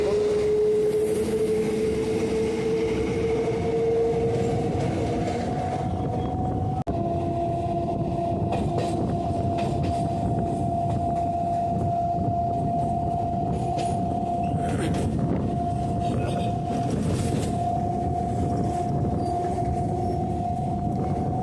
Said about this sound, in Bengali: ট্রেন এখন দৌড়াচ্ছে আমাদের মেন লাইন দিয়ে